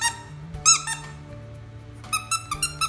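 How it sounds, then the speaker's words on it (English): A squeaky ball dog toy squeaks in short bursts, two squeezes early then a quick run of four or five near the end, loud and close with quiet pauses between. "it's like squeaks"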